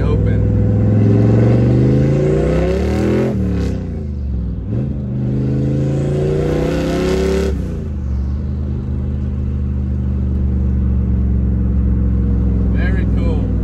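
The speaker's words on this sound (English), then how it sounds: "you can hear the wastegate really open" Ford Foxbody with a turbocharged engine and a finished 304 stainless steel side-exit exhaust, giving a loud, close, sustained rumble that rises and falls through rev swells, with the wastegate opening amid the engine roar. Talk is heard over it.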